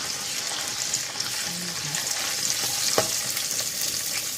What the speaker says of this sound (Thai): อันนี้เราก็จะใส่พริกแกงไปเลยนะคะ